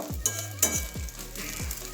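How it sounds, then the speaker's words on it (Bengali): A rolled egg omelette frying in a pan gives a continuous soft sizzle, with several quick scraping strokes of a spatula turning it at regular intervals. "একটু ভালোভাবে এরকম লাল লাল করে ভেজে নেব"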